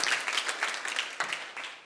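An audience claps and applauds at a seminar, a brief burst of scattered hand claps that stays fairly faint and distant and then fades slightly toward the end, with no voices over it.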